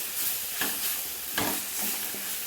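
Drumstick leaves are sautéed in a hot pan for chutney, with a steady frying hiss and a few scraping stirs of a spatula, close up.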